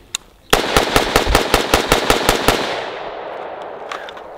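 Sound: unsuppressed CMMG Dissent .300 Blackout short-barrel gunshots

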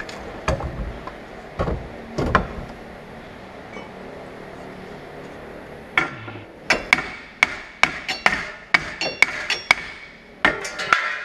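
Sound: hammer taps on a car wheel hub

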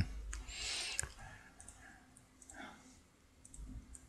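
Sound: computer mouse clicks

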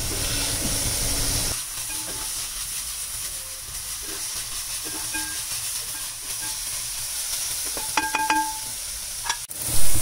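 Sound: onions and spices being stirred and sautéed in a pan

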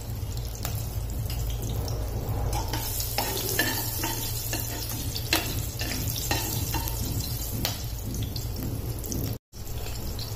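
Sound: sliced green chillies frying in oil tempering

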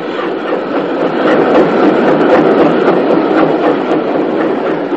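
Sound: steam locomotive running, British Railways 30583

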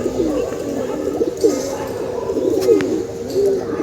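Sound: pigeons bathing and cooing on a rooftop loft

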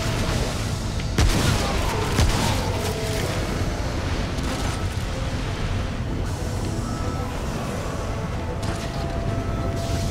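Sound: enemy shooting in the video game Remnant: From the Ashes

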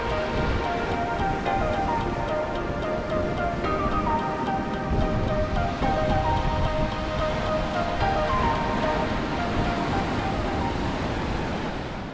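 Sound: ocean waves on the beach

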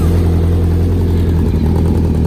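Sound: Honda cafe racer motorcycle engine starting and idling

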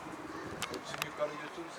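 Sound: pigeons cooing

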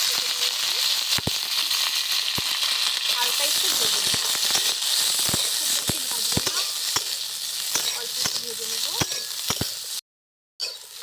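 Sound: capsicum and onion frying in hot oil in a wok

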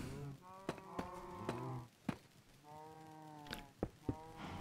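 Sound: cows mooing in a video game

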